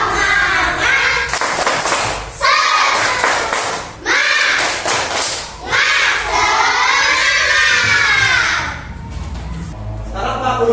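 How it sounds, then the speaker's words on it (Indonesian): Schoolchildren in a classroom chant and clap together in the rhythmic tepuk semangat cheer, loud bursts of young voices with short pauses between lines. "Yuk, tepuk semangat dulu."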